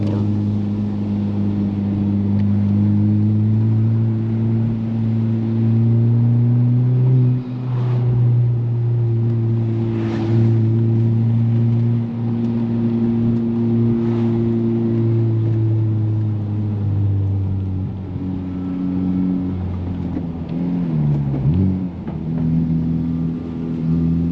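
A 2021 Honda Civic Type R Touring drives a bumpy, curvy road with some gravel, its engine droning steadily and loudly inside the cabin with shifts in pitch as it works through corners.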